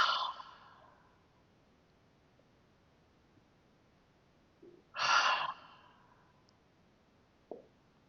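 Slow, deep breaths during a seated yoga twist for low back release: a long exhale at the start, another fuller breath around the middle, and a small soft sound near the end, with quiet stillness between.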